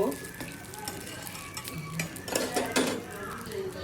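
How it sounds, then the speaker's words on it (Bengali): Paratha fries in a pan at home, with a soft sizzle beneath clinking utensils and scraping as it is turned, nearby and moderately loud. "একটু পরোটা ভেজে নিচ্ছি"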